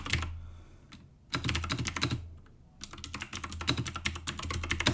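Fast clicky keystrokes on a computer keyboard as a password is entered, two quick bursts of typing separated by a short pause, close and clear with no voices.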